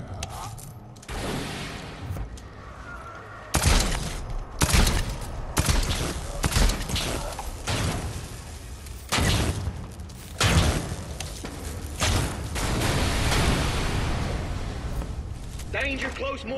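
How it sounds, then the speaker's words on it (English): Mortar strikes land in Dead Island 2, a series of loud, close booming explosions and gunfire bursts arriving in irregular succession over game noise, with some talk in the background. "Danger close mortars."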